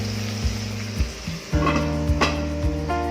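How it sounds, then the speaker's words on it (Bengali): Onions frying in a covered pan with a little salt, a steady close sizzle under a low tonal hum, with a few stirring scrapes and clinks partway through. "দেখো আমার পেঁয়াজগুলো মোটামুটি ভাজা হয়ে গেছে"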